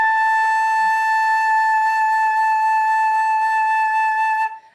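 A flute sounds one sustained, steady tone with a strong, refined, focused timbre, close and loud, held for several seconds before stopping abruptly.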